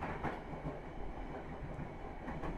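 The KA Kutojaya Selatan train rolls past Nagreg station, a steady low rumble and faint rhythmic clatter of wheels on rails heard from aboard, with a few soft knocks and no talking.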